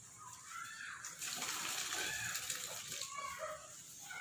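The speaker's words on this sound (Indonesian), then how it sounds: "Jadi kita membuang airnya dulu." Boiled water from a pot of aloe vera is poured out in a steady, splashing stream that grows fuller after the first second and runs continuously, close and fairly quiet.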